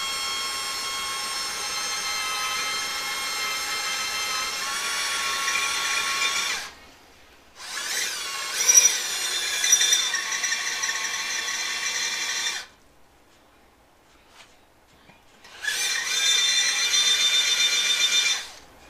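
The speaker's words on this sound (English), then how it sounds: "I'm going to drill it a little bit." A high-pitched power drill whines steadily in three long bursts grinding into a metal Comstar wheel hub from a Honda CX500, separated by brief silent pauses.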